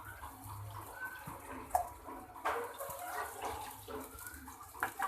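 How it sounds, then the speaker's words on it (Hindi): Water being poured into a cooking pot holding about a kilo of rice, a steady close splashing and trickling stream with small gurgles. "ये पानी ऐड कर देंगे हम इसमें।"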